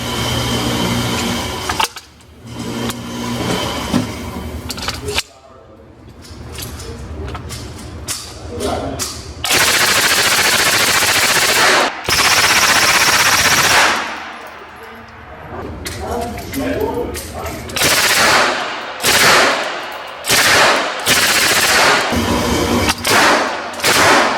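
A Lage MAX 10/9 mk2 9mm upper fires in sharp rapid bursts at an outdoor range, loud cracking shots in clusters separated by pauses, with people talking in between.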